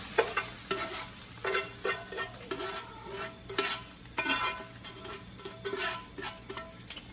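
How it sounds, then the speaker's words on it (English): Golden brown onions are stirred in a pot, a broad sizzling hiss underneath repeated scraping spoon strokes in an uneven rhythm, close and fairly loud, with no talking. "Give it a nice little stir."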